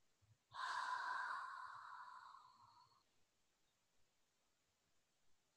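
A long, breathy exhale during a guided healing meditation, one steady rush of air that fades over about two and a half seconds, followed by quiet.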